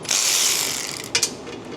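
A hand ratchet wrench works a bolt loose on the rear differential of a Ford Explorer ST, giving a steady whirring rasp followed by two sharp clicking bursts, close and loud.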